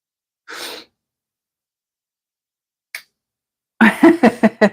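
A single sneeze bursts out, followed after a pause by a faint click, then a short run of rhythmic breathy sounds close to the microphone.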